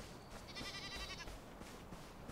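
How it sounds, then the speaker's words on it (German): A goat bleats in the video game Enshrouded, one wavering, buzzy call lasting nearly a second over steady game ambience. "Ist doch irgendwo eine Ziege, oder?"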